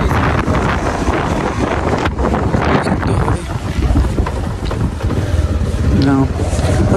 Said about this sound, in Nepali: अचम्मै यस्तो चिसो हावा छ नि